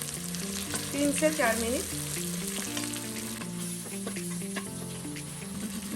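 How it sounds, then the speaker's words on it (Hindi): Ginger and garlic fry in a pot with a steady, close sizzle while being stirred now and then. Someone speaks briefly over the hiss of the hot oil. "जब तक अदरक और लहसुन से कच्चा फ्लेवर नहीं चला जाता है, तब तक हमें फ्राई करना है"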